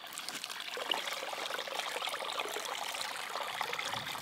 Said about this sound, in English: All right, getting some water out down here now.